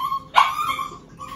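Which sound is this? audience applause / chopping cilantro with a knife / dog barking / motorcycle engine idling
dog barking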